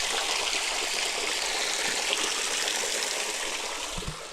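A mountain waterfall and creek beside a steep trail in southern West Virginia rush in a steady, dense roar, close and continuous with no talk over it.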